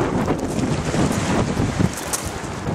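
Strong outdoor wind buffets the microphone in a steady low roar with gusts, near a large quartz outcrop at a rocky historical gold-mining site.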